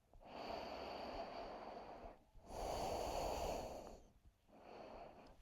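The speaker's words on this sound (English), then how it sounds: "Have another inhale and exhale here." Slow, deep breaths during a gentle heart-opening yoga flow: a long drawn inhale, a fuller exhale, then another breath, close and soft with no talking.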